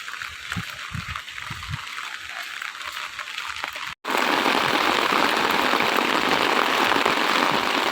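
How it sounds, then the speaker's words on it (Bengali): Morning rain comes down as a steady hiss on surfaces near a house. It is moderate at first, then turns into a loud, dense downpour after a brief break. "সকাল হতেই বৃষ্টি শুরু হয়ে গেছে"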